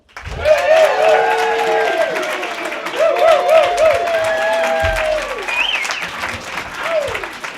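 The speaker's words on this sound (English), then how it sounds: "Please give me a huge round of applause" Studio audience applause welcoming a guest onto a talk show stage, loud sustained clapping and cheering throughout, with whoops and a host's voice rising over the crowd.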